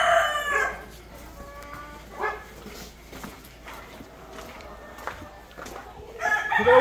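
Country free-range chickens and roosters on a farm near Pune crow and cluck in bursts, with a dog barking among them, fairly close and without talk.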